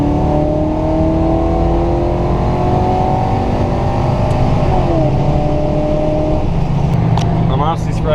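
A 1979 Chevrolet Camaro Z28 accelerates hard, its engine roaring loud and close with rising revs, a brief dip as it shifts, then pulling again.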